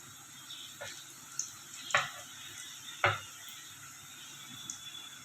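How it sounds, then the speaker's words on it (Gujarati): Boondi batter dripping from a raised perforated ladle into hot frying oil, a soft ongoing sizzle with a few sharp clinks and splashes, quiet and close, no talk. "આટલો આમ જારો ઊંચો રાખી અને બુંદી પાડવાની"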